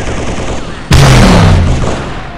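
A single sharp, loud gunshot in the shooter Halo SPV3, cracking out suddenly and ringing into a long, fading echo.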